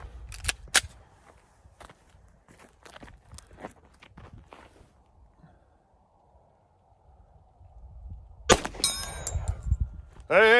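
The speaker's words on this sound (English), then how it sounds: "Shoot some of the steel downrange." Shots from an FNX .45 ACP pistol at steel targets downrange: a series of sharp reports and metallic clangs at irregular spacing, then a louder burst of cracks and ringing steel near the end.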